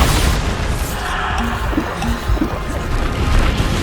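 Bombarda spell blasts in Hogwarts Legacy hit as loud, dense booms with crackling debris, mixed with several brief thuds and splashy pops in the middle of a combat scene.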